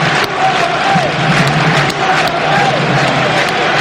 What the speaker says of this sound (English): It's the Tranmere fans we can hear around Wembley at the moment.